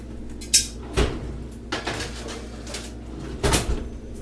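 A baking tray of French toast goes into a kitchen oven, bringing a few sharp clunks and knocks from the oven door and metal tray, spread over a few seconds in an otherwise quiet room.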